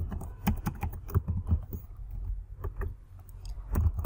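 Someone types PHP code on a computer keyboard, producing a steady run of close, moderately loud key clicks in an uneven rhythm, with no voices.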